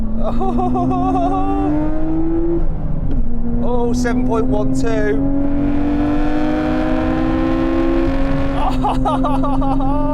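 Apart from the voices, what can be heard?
Nissan GT-R R32 launching and accelerating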